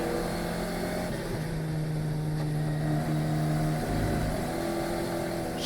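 An Alpine F1 Academy race car on a qualifying lap at Singapore sends out a steady, loud engine whine with a rising and falling pitch, close and continuous.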